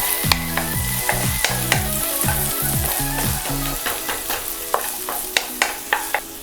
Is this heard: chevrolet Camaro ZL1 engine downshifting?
no